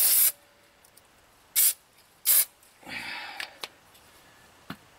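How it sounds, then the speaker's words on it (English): Aerosol parts brake cleaner sprayed onto the brakes of a 1999 Oldsmobile Aurora, three sharp hissing bursts close by, the first and third longer, followed by softer rustling and faint clicks. "I'm going to hose it down with parts brake cleaner so that we don't have any slip."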